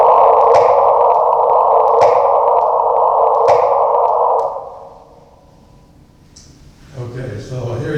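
A gravitational-wave chirp rendered as an audio tone with its pitch boosted sounds as a loud, sustained buzzing tone with faint periodic clicks. It cuts off after about four seconds, and a voice then starts speaking.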